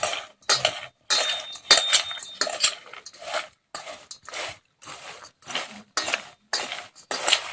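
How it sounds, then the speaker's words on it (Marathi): Spoon stirring and tossing sabudana chivda in a metal pan or bowl, with a steady run of short, near scraping and clinking strokes and rustling crunchy pieces, brief pauses between them. "आता चमच्याने छान असा मिक्स करून घ्यायचे"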